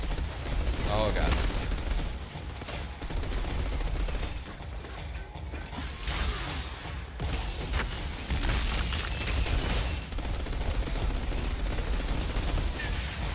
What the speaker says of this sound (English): This thing you want to do here is shoot everyone except for Dr. Detonator.